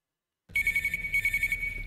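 An electronic phone ringing in the horror video game TubbyLand Act 1 Rebuilt starts after a moment of silence, then repeats in two clear, loud ringing bursts with a steady tone and no talking.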